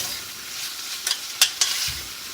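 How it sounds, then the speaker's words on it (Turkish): Minced meat for spaghetti bolognese frying in a pan, a steady close sizzle broken by a few sharp scraping clicks of stirring. "kavurduktan sonra kıymayı katıyorsunuz. Akabinde kavurup"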